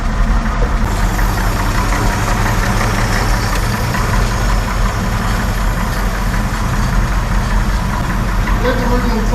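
A 1963 Chevy 4x4 truck engine idles just after being started for the first time in years, a loud, steady, rough low rumble heard up close, with voices faintly mixed beneath it.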